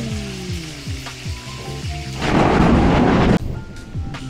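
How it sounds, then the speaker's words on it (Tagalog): Thunder rolls up as a loud, broad rumbling crack for about a second and cuts off abruptly, rising over a steady background of repeating low tonal game-like music or effects. "Kumulog."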